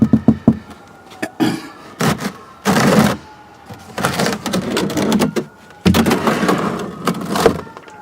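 A plastic drain pan is sealed and shifted aside during a CVT fluid change on a 2019 Honda Civic, giving loud, close clunks, knocks and scraping clatter in irregular bursts.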